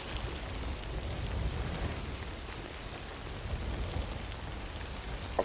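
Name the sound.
rain in the video game Death Stranding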